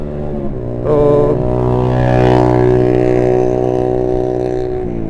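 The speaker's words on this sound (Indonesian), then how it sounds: "ada orang yang ngetes mesin" An engine is revved during a test beside a roadside construction area: a steady, loud motor drone that climbs in pitch after the first second, holds a sustained rev, then eases back at the end.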